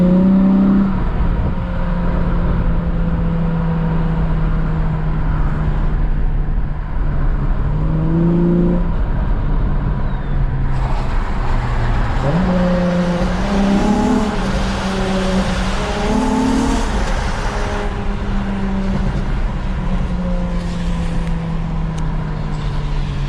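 An Acura TL SH-AWD with a crackle tune and stock mufflers roars through repeated revs and gear changes, loud and continuous engine drone with rising and falling tones, its pops heavily muffled.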